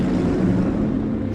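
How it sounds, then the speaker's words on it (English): A WWII motor torpedo boat's petrol engines roar at full throttle on open sea, a dense, loud, continuous low rumble that holds without a break. "Their engines roaring, these tiny warships crashed through the sea at 40 knots"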